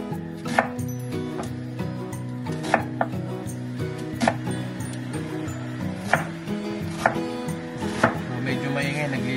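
Onion being chopped for shawarma, a knife striking the board in quick, slightly uneven strokes, close and clear over a steady tonal background hum.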